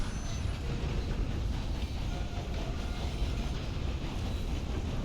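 A train rolls steadily along in a video game, making a continuous dense rumble and clatter that holds at a constant level throughout, with no talking.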